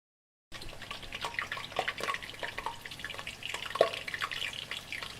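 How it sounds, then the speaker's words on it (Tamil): About 300 ml of sesame oil is poured into a pan while cooking a green chili chicken fry. It makes a steady, soft trickle with small drips and splashes that runs for several seconds. "ஊத்துங்க, சொல்லி ஊத்துங்க. எத்தனை? 300 ml நல்ல எண்ணெய்."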